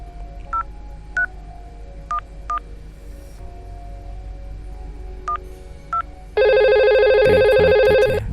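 Simulated VoIP phone in Cisco Packet Tracer: eight short, evenly spaced dialing beeps, then a loud continuous ringing tone that begins near the end, all close and clean.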